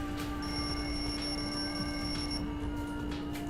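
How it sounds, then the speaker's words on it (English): A wall clock alarm in Danganronpa 2 rings as a steady electronic bell tone, faint and unbroken for a few seconds, with no voices. "The lounge's wall clock alarm started ringing"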